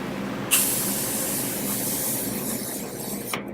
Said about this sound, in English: I'm going to go ahead and set it with a setting spray.